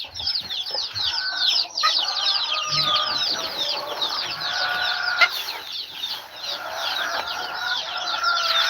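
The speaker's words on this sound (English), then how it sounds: "Now I just need to get the last of the chicks in the pen and feed the last of the small chicks." Chicks in a farm pen, with dense, continuous high peeping and chirping from many birds throughout, fairly close and steady.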